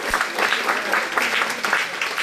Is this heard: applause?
yes